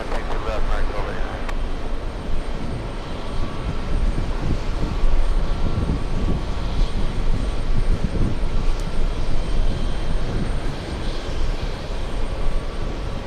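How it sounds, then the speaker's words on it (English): An American Airlines jet airliner, flight 236 bound for Rome, at JFK airport, with a loud, continuous engine roar swelling and holding for several seconds while voices talk over it. "That is American 236 flying to Rome."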